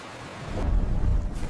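Tropical rain and thunder in a story soundtrack: a low rolling rumble builds and swells over a steady wash of rain-like noise, without talk.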